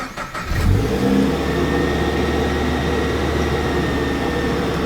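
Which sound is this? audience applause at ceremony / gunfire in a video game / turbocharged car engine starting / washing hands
turbocharged car engine starting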